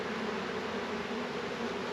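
Honeybees swarm around an open hive during an inspection, giving a dense, steady, close buzzing drone that holds unbroken throughout, with no voices.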